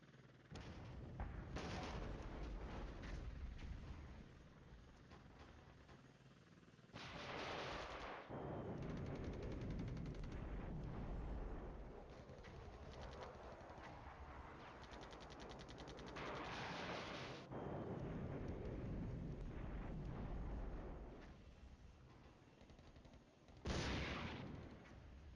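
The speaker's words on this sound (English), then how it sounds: "Now we are getting shelled." Artillery shelling in the wargame FC: Cold War: a long, dense barrage of overlapping booms and crackling gunfire that rolls on steadily for over twenty seconds, loud throughout, with a few brief lulls and a sharp burst near the end.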